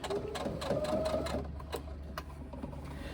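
A sewing machine stitches through the thick side seams of a reversible tote, a fast buzzing run that slows and stutters into a few separate needle thumps toward the end.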